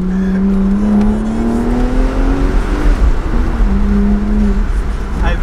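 A sports car engine revs hard and climbs in pitch, settles briefly, then revs up again, loud and close with steady road noise beneath.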